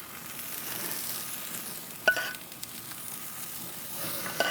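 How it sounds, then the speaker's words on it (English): Sauced, spicy artichokes sizzle steadily on a hot grill with a faint, even hiss, broken by a couple of sharp clicks and pops partway through. "Now we're going to let them grill for just about a minute"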